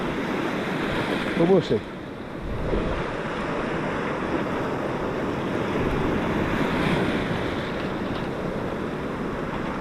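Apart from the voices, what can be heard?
choppy sea waves on the foreshore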